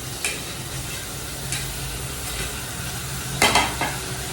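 Tomatoes are stirred into a hot pan for dal chawal, a low, steady sizzle close by, broken by a few sharp spoon scrapes toward the end.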